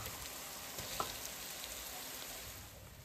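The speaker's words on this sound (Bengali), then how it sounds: "পেঁয়াজ কুচিকে তেলের মধ্যে হালকা ভেজে নিয়ে" Chopped onions frying in hot oil for a turkey bhuna curry, a steady soft sizzle and crackle throughout with a brief clink near the start, no voices.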